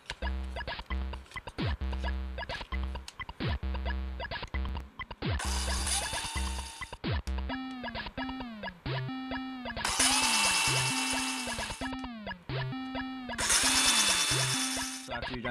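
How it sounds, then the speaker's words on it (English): A power drill whirs in repeated short bursts into a plastic Game Boy DMG-01 case, several brief pulses followed by longer high-pitched spins, close and loud, with pauses between runs. "So let's start drilling."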